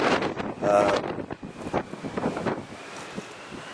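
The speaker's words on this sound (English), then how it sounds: "It's windy" Gusty wind buffets a microphone outdoors overlooking the Moray Firth in Scotland, coming in uneven rumbling bursts, with a person's voice briefly audible among the gusts.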